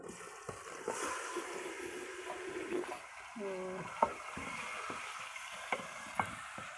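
Meat goes into browned onions for village-style karahi gosht, frying with a close crackling sizzle, stirred with scraping clatters and a few sharp knocks against the pot, and someone speaks over it at times.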